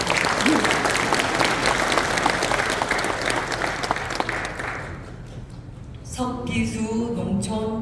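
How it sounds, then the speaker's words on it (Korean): Loud applause from an audience at a town residents' dialogue meeting in Nampyeong-eup, Naju, in honour of the volunteer patrol chief, filling about five seconds before fading as a voice begins speaking over the tail. "좀 큰 박수 부탁드리겠습니다."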